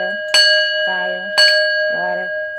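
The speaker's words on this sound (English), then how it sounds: "I'm gonna ring this bell" A handheld bell rings twice, each bright metallic strike followed by a sustained shimmering tone that decays slowly, close and loud with no talk over it.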